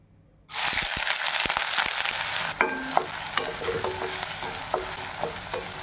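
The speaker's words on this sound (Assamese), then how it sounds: "এইফালে তেল গৰম হৈ গ'ল মই এতিয়া পিঁয়াজখিনি দি দিওঁ" Onions hit hot oil in a kadai after a moment of quiet, setting off a sudden sustained sizzle with scattered metallic scrapes and taps of stirring over the hiss.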